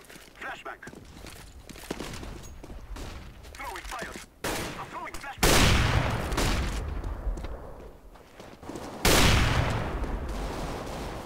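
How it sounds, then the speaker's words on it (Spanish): Rapid bursts of gunfire crackle in Overwatch as shots go through a wall, loud dense volleys breaking out in several bouts with clattering footsteps and action noise between them. "Le dispara al amigo a través de la pared"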